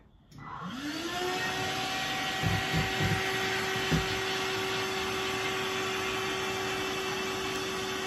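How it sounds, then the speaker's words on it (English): A vacuum cleaner lifts static grass on model train scenery for a Halloween-town train table. Its motor spins up within the first second, then holds a steady, close, loud whine with a faint rising pitch and no talking. "I'm using the vacuum to pull the static grass up a little more"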